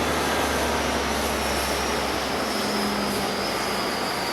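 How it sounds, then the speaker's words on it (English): Air Force One jet taxiing to a stop at Palm Beach International Airport, a steady broadband engine roar with a high whine, loud and continuous with no voices. "there you see Air Force One coming to a stop here at Palm Beach International Airport"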